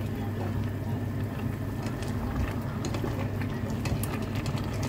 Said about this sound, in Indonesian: Kemudian kita masukkan kentangnya yang sudah kita goreng tadi.